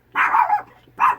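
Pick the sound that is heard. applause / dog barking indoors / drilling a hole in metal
dog barking indoors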